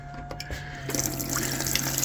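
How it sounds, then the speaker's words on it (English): Water runs from a tap in a campervan being fitted out for off-grid use, a steady close splashing that swells after a brief quieter start and carries on alone. "So we've got running water."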